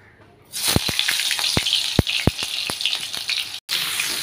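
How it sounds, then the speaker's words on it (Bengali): Jackfruit pieces drop one by one into hot mustard oil, each landing with a loud crackling burst over a continuous bright sizzle, close up, with a brief dropout near the end. "এইবারে আমি গ্যাসের ফ্লেমটা একটু কমিয়ে দিয়ে এর মধ্যে একে একে সমস্ত এঁচোড়গুলো ভেজে নেব"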